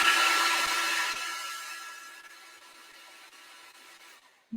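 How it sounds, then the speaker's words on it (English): A heat gun or hair dryer blows a steady airy whoosh while heating glue, starting loud and slowly fading over several seconds, with a couple of faint clicks before it cuts off. "you can always take your heat gun, or your hair dryer"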